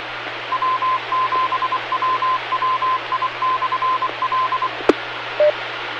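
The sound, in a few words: amateur radio repeater station identification signal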